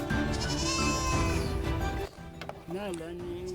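A goat gives a loud, close, drawn-out bleat, followed after a short gap by a second, shorter bleat.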